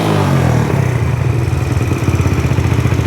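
A Yamaha Raptor 125 ATV engine runs at a high idle, a loud, close, buzzing putter that dips slightly after the first half-second and settles into a steady, rapid pulsing chug.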